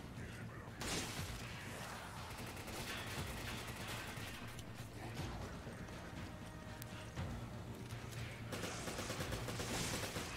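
Automatic machine gun fire in Resident Evil 5 Remastered, a dense, continuous clatter of game gunfire running under loud mixed effects across the whole stretch, with bursts swelling near the start and the end.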